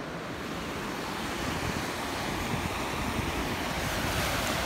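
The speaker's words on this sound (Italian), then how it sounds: "il mare di Maspalomas, spiagge infinite" Sea waves rolling onto the long open beach at Maspalomas in the Canary Islands, a steady broad roar of surf mixed with wind buffeting the microphone, continuous and fairly loud with no voices.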